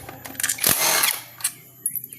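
A Honda Scoopy FI motorcycle has its bolts loosened with a T8 key, giving close metallic clicks and a brief scraping rattle, then a few lighter taps.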